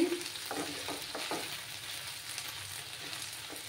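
Ginger and garlic paste frying in a pan over lowered heat makes a soft, continuous sizzle, broken early on by a few scraping stirs, close by and moderately quiet with no one talking.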